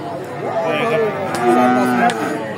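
A Friesian heifer calf of four to five months moos at a cattle market, a loud, close, drawn-out bellow with wavering pitch that rises and falls over background noise.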